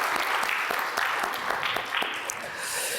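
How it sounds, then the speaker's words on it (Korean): A church congregation bursts into sustained applause during a Sunday worship service, with many hands clapping in a dense, steady patter that carries through the hall and slowly tapers off. "다시 한번 오늘 박수로 하나님 앞에 영광 돌리십시다."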